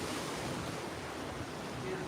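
Open sea waves heard from the deck of the cruise ship Crown Princess make a steady, broad wash of surf mixed with gusting wind noise. It is faint and continuous, with no distinct breaks.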